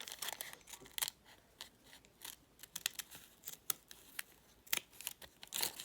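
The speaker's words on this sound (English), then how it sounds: "put my leaf on my made up fabric and cut around." Scissors snip around a fabric leaf shape in a quiet room, giving a string of short, crisp cuts in uneven bursts with paper-like rustles between them.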